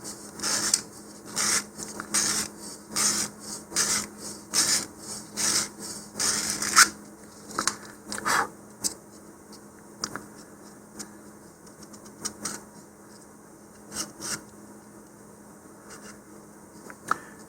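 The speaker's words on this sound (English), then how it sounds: "So we'll give it a little more sanding." Hand sanding of a model rocket part, an Estes Orion 3D Bellatrix kit, gives a run of quick rhythmic rasping strokes, close and fairly loud, that turn sparser and more irregular in the second half.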